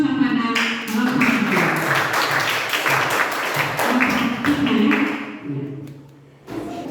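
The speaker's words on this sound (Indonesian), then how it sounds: "Kita berikan aplaus kepada kelompok" Classroom applause for a student group after their presentation at a junior secondary school, a dense, steady wash of many hands clapping with voices mixed in, fading briefly near the end before resuming.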